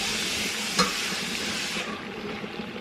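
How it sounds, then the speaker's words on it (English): Water hits a hot pan of seasoned Jamaican curry chicken and is stirred in, a close, steady sizzling hiss with a brief clink early on, easing somewhat toward the end. "we throw the water on, just mix that up"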